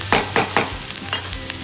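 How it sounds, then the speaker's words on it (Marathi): Mixed vegetables stir-fried in oil in a pan, with three quick, close scraping stirs followed by lighter clinks over a soft sizzle. "मस्त असं आपलं मिक्स भाज्या भाजून झालेल्या आहेत तेलामध्ये थोड्या"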